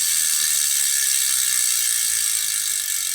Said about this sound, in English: It wouldn't be a Wheelset review without a Freehub sound check.